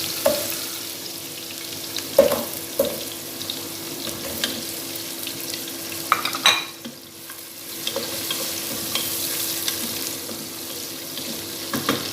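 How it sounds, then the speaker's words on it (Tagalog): Garlic and onion sautéing in hot oil, a close, continuous sizzle broken by a few spoon knocks and stirring scrapes. A brief watery rush breaks in partway through, then the steady frying carries on without any voices. "Now I put oil. I sauteed this garlic, then"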